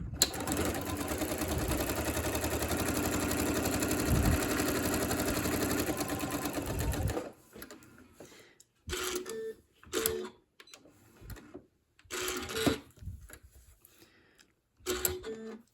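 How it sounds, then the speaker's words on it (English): Home sewing machine stitching a quarter-inch seam around stacked quilt blocks for half-square triangles: a long continuous whirring run, then several short start-stop bursts of stitching separated by quiet gaps. "And so I just sewed off the edge here"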